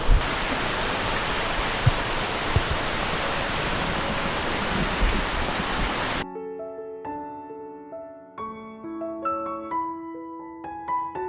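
Heavy monsoon rain on a Konkan rice farm makes a dense, even hiss and roar for about six seconds, then cuts out abruptly and gives way to music.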